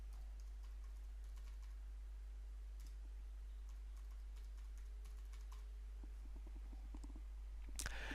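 A computer keyboard types a database password during a Joomla 3 installation, with faint, sparse keystroke clicks scattered over a quiet background.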